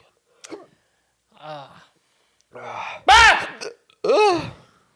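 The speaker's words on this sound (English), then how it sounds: "Got hiccups again." Repeated hiccups from a man during a sports podcast on NASCAR racing, five sharp voiced hiccups spaced about a second apart, close and fairly loud against near silence.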